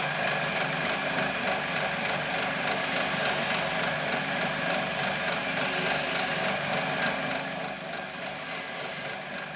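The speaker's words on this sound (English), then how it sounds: "then we'll use the gouge just to hollow it out" Wood lathe spinning steadily while a gouge hollows out a wooden breadstick roller cutter: a continuous close, even hum and scraping hiss that dips slightly near the end, with no talk.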